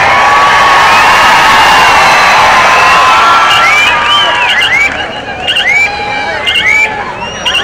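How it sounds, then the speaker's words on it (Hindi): Spectators at a senior national men's kabaddi championship match in Maharashtra cheer and shout in a loud, dense crowd roar, with whoops and whistles rising above the din. "तालियां थोड़ी ज्यादा बच जाए तो माहौल बहुत अच्छा बन जाएगा"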